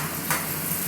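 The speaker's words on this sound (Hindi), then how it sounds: "इसको चलाते रहेंगे और इसको हम पकाएंगे अच्छी तरीके से" Ingredients sizzle in a pan over high heat while being stirred for pasta, a brief close crackle with faint scraping strokes and no voices.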